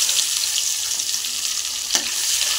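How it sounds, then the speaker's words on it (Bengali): Sliced onions frying in oil left over from frying fish heads, giving a steady, close sizzle with a single sharp stir or scrape near the end. "এবার আমি ওই মাছের মাথার ভাজার তেলে দিয়ে দিলাম দুটো পেঁয়াজ কেটে"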